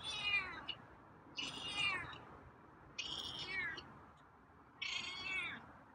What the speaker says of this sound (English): it's raspy meow